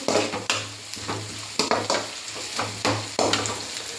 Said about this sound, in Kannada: ಈಗ ಖಾರಕ್ಕೆ ನಾವು ಇದನ್ನೆಲ್ಲ ಫ್ರೈ ಮಾಡ್ಕೊತಾ ಇರೋದು ಚೆನ್ನಾಗಿ ಚೆನ್ನಾಗಿ ಫ್ರೈ ಆಗಬೇಕು